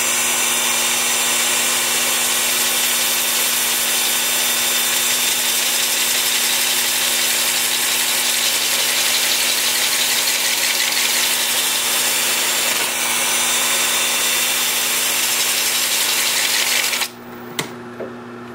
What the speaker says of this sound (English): Then with the lathe spinning in reverse at about 350.